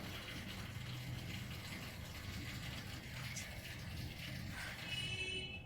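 Water gushes and rushes steadily through a valve and piping of a hydraulic lifting emulsifying machine, a continuous churning flow with a faint mechanical hum underneath.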